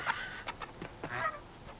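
A bird in the video game Horizon Forbidden West clucks in a quick series of close, clear chicken-like calls over a quiet background, with no talking.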